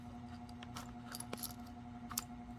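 Small metal key turned in a lock on a device, a few faint clicks and light metallic taps scattered through a quiet room over a low steady hum.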